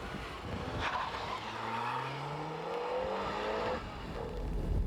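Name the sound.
car flat-out acceleration during a test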